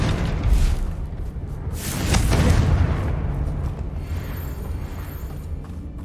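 Blasting spell explosion in a fantasy wizard video game: a deep booming burst near the start, then a second heavy rumbling blast around the middle that trails off into a sustained low roar.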